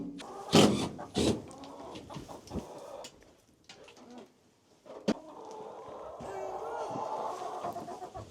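Chickens moved into a stall with nesting boxes cluck and squawk nearby in a few sharp bursts, followed by steadier low clucking against farmyard rustling; no one speaks.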